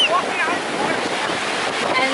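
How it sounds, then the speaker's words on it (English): Ocean waves roll and wash ashore in a steady, broadband surf hiss at a crowded seaside spot awaiting a SpaceX launch, with wind buffeting the microphone throughout. "And then there's the waves over here."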